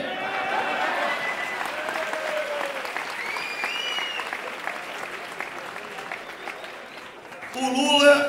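An audience claps steadily in loud, continuous applause that fades a little before swelling again near the end.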